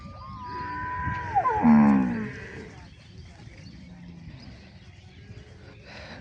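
A cow moos once loudly and nearby on a large cattle farm holding dairy cows and heifers, a drawn-out call that rises and breaks, followed by quieter background lowing and faint farmyard noise.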